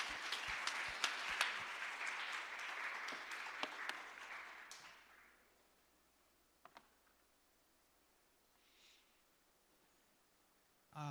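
Church congregation applauding during a Sunday worship service to welcome a man coming forward to share a testimony, dense clapping for about five seconds that fades into quiet room tone with a few faint ticks.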